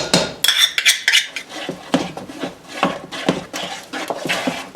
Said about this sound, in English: Immediately, let's stir in our peanut butter